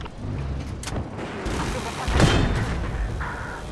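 Rapid anti-aircraft gun fire in the video game Battlefield 4, a dense stream of heavy shots and booms layered with battle noise and a voice speaking over it.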